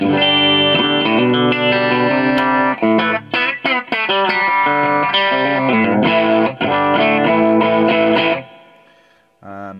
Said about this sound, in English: it can actually be quite a sweet low gain pedal, just for that little bit of grit